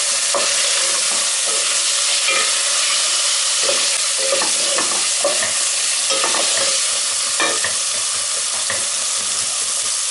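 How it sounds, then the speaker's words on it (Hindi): Chicken pieces fry with masala for palak chicken, giving a loud, continuous sizzle. Repeated scraping and stirring strokes from a utensil in the pan run throughout. "तो अच्छे से फ्राई हम करेंगे, सब बोटियों का कलर अच्छे से चेंज"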